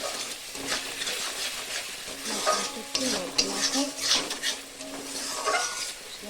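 Spice paste with red chilli powder being stirred in oil for a doi katla fish curry, a continuous close sizzle broken by repeated scraping and clinking strokes of a utensil against the pan.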